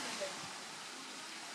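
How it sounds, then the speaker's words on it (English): Steady rushing water from a park fountain fills the space, a continuous broadband splash running nearby, with no other sounds standing out. "sit in the park and look in a beautiful fountain"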